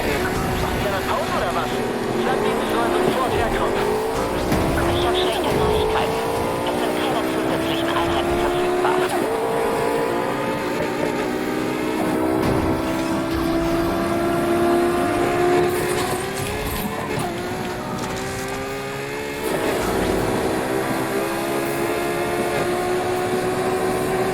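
A race car engine in the Need for Speed Heat video game: a loud, continuous roar that climbs repeatedly in pitch through the gears, with brief dips between shifts as the car accelerates flat out.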